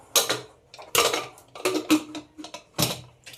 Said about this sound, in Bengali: এবার কুকারের ঢাকনাটা দিয়ে দেব।